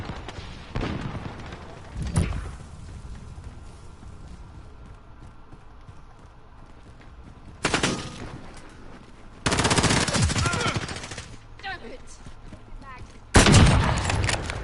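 Bursts of video game gunfire from a PS4 shooter: loud automatic volleys at the start, around eight seconds, near ten seconds and again at the end, with quieter game ambience between them.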